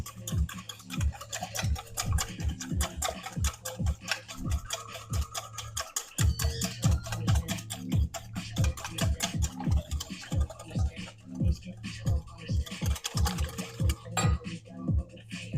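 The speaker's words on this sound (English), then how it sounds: "you have to whisk it because you got to get it all put together" A whisk beats a spring roll mixture in a bowl, quick rhythmic clinking and scraping strokes close up, steady throughout with a short pause midway.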